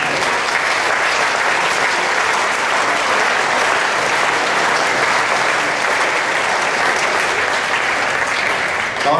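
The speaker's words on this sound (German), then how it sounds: "Viel Applaus." A theatre audience applauds at a jubilee concert for a Swiss yodel duet, a dense, loud, sustained clapping that fills the hall evenly from start to finish, with no pauses.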